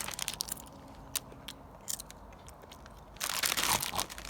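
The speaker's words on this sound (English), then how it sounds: "first we're going to try these crisps" German crisps being eaten up close: crisp bites and crackly chewing, with a louder burst of crunching and bag crinkle toward the end, no talk.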